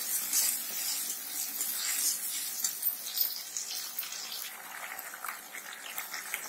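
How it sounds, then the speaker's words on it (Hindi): Onion paste sizzling and frying in a pan as tomato paste is added, a steady close hiss with faint stirring scrapes throughout, no voices. "मैं इसमें टमाटर वाले पेस्ट को डाल दूंगी।"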